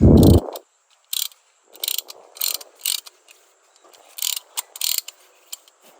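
A ratchet wrench tightening a bolt on a Perodua Myvi during a brake pad change, after one loud knock, in bursts of quick close clicks separated by short pauses.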